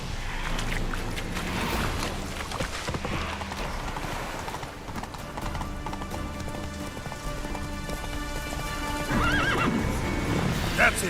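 Roach the horse gallops with a steady clip-clop of hooves in The Witcher 3 game, rain pattering around, and a loud neigh rises near the end; a voice speaks briefly over it.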